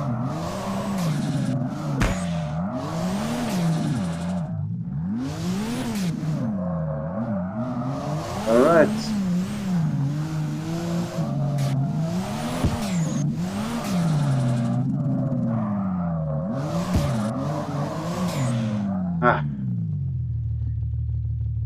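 A car drifts in a sim racing game played on a Thrustmaster T300RS wheel with worn, heated tires, the engine revving up and down in repeated swoops while tires squeal through slides; someone talks over it throughout.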